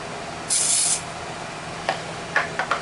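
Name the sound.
quick spritz of glue accelerator spray on turning blank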